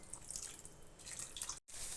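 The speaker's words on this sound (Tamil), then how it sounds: "இதுக்கப்புறம் இந்த உருளைக்கிழங்கு வேகிற அளவுக்கு தேவையான அளவு தண்ணி ஊற்றிக்கோங்க." Water poured in a small stream into a pan of cut potatoes being cooked for a simple potato roast, a steady close splashing trickle with a brief break near the end.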